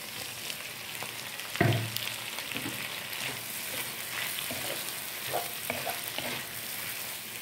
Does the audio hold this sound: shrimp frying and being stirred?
yes